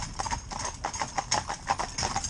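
Hooves of a stallion and two geldings clip-clop steadily as the horses are worked in tandem, a quick, regular beat of hoof strikes, fairly close and clear, with no talk over it.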